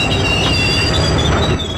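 A passenger train grinds to a halt after the emergency chain is pulled, steady loud rumble of wagons with high metallic wheel squeal running throughout, close and continuous.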